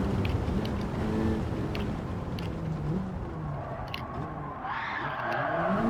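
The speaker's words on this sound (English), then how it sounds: "I did something that you can't actually do in a Honda Civic Type R, and that's a handbrake turn" A Honda Civic Type R in Gran Turismo 7 makes a handbrake turn on the Sardegna circuit, its tyres skidding and squealing over the steady engine drone, with the engine pitch rising sharply near the end.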